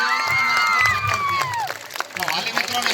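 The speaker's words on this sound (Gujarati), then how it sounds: "બધા ઊંચા હાથ કરી તાળીઓ પાડો" Crowd of parents applauding and cheering at a children's annual function performance in Keshod, with sustained clapping mixed with shouts and a voice over a loudspeaker throughout.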